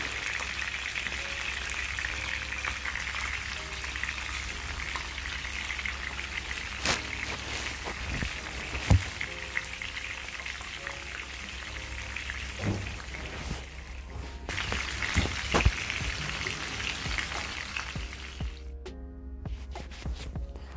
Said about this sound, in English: So while our fish is frying